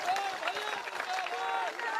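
A crowd at a political rally in Madhubani, Bihar claps in a brief, dense burst of applause, quite faint and distant, with shouting voices mixed into it.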